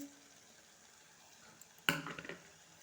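A capsicum and tomato curry is stirred in a frying pan, with a sudden burst of scraping and sizzling after a quiet stretch, then a few more close stirring scrapes with no talk.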